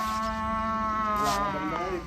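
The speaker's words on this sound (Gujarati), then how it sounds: "જો ભેંસ આવી" A black buffalo lets out a long, deep, droning moo close by, loud and sustained for about two seconds.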